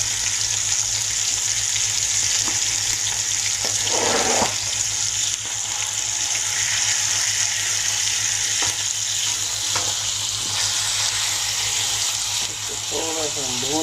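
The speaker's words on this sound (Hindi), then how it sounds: "थोड़ा सा भूनेंगे 1 से 2 मिनट तेज आंच पे।" Liver (kaleji) frying on a small tawa over high heat gives a loud, steady sizzle that runs the whole time, with a few soft clinks and scrapes of stirring now and then.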